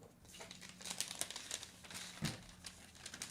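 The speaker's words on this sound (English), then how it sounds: "Just gonna put a little tape on it." Tape crinkles and tears as it is put onto a model car order package, a faint, close run of rustling and crackling bursts without voices.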